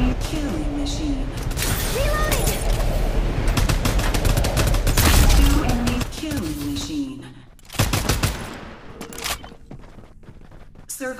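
Rapid bursts of gunfire and heavy fusillades crackle through a Farlight 84 mobile battle, with dense automatic shots, a brief lull and renewed firing, while a game voice speaks over the action.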